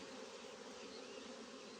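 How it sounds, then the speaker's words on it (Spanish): A dense, steady buzz of many honey bees humming together at a queen bee bank, close and continuous with no pauses. "El amigo Fabricio arma sus bancos de abejas reinas en colmenas huérfanas."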